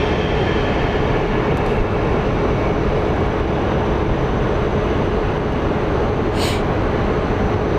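The SkyTrain at Phoenix Sky Harbor airport rolls by with a loud, steady rumble and a faint whine, continuous throughout with no talking.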